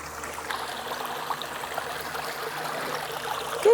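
Creek water flows in a steady, even rush outdoors, close and moderately loud throughout, with a brief louder bump at the very end and no speech.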